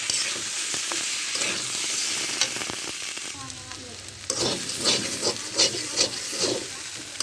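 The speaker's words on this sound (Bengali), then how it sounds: "দিয়ে আলু বড়ি আমি ভালোভাবে কষিয়ে নেব।" Potatoes and sun-dried lentil dumplings sizzle in hot oil with cumin, garam masala and green chilli, a steady frying hiss broken by scraping spoon strokes and a few sharp taps against the pan toward the end.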